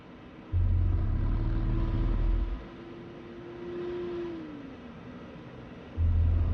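Su-27 jet engines idle in DCS World, a loud deep rumble that drops back to a quieter hum with a steady whine before the rumble returns at the end.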